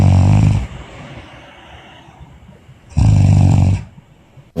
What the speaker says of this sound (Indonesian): Orang ngorok.